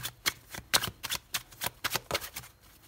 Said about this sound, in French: On va remettre une carte là-dessus pour comprendre.